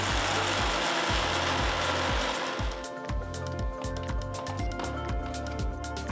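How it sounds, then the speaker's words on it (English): Electric mixer grinder grinding cooled roasted spice ingredients into fine powder in a mixer jar, a loud, steady, close motor whir with a rattling, pulsing churn that continues throughout. "Transfer the cool ingredients to a mixer jar and grind it to a nice fine powder."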